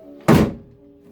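Door of a 1972 Range Rover pushed shut by one hand without slamming: a single firm close-range thunk that fades quickly against a quiet background.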